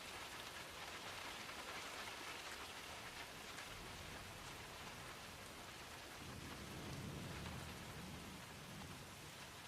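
Steady heavy rain ambience, dense and continuous hiss of drops on surfaces with a deeper rumble swelling in the background, no voices.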